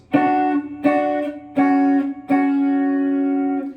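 An electric guitar with a smooth, synth-like tone plays the synth intro part of a song, four sustained notes in a row, each ringing into the next, loud and close.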